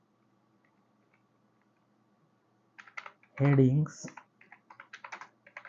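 Rapid keystrokes on a computer keyboard as a prompt is entered into ChatGPT, a brief burst of speech partway through, then steady close clicking continuing to the end.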